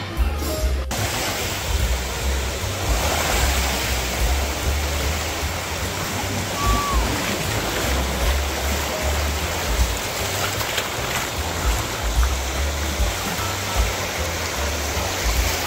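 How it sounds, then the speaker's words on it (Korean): Calm ocean waves off the beach at Destin, Florida give a soft, steady wash of surf, even and continuous at moderate level with no voices. "파도도 잔잔하고"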